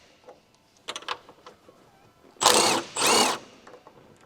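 An impact wrench fitted with a 15mm deep socket removes the top mount nuts on a Honda Civic during a coilover install, giving two loud, sustained bursts of hammering close by, each lasting about half a second, after some light clicks and clanks.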